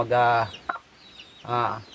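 A chicken clucks loudly and close by in two drawn-out calls separated by a brief pause, with a short sharp note between them.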